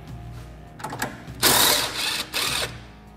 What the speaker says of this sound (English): we'll go ahead and remove our nut off of our shock bolt